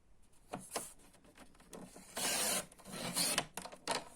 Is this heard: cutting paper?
yes